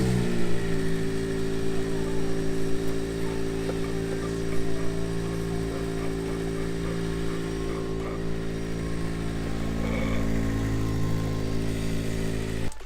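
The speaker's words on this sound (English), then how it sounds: "personally I think the engine is running a lot smoother now" Honda Civic Type R engine idling steadily after a valve clearance adjustment, a smooth continuous mechanical hum with a low, even drone and no revving, close and constant throughout.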